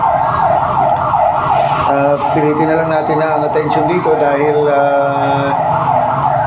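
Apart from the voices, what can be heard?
ambulance sirens passing by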